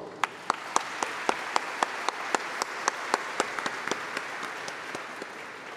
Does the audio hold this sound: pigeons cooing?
no